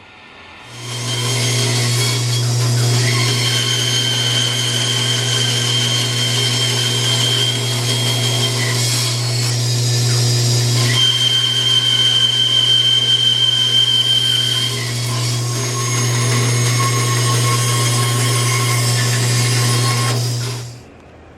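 A bandsaw motor hums steadily with a strong low drone while rough cutting oak pieces for snail-shaped drink coasters, the blade noise rising and dipping as it bites the wood, near and loud, starting and stopping cleanly at the ends.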